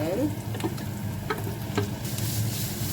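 Chopped snake gourd tossed into hot oil with mustard and fennel seeds, a soft sizzle under a few scraping stirs of a spoon in the pan, close and fairly quiet.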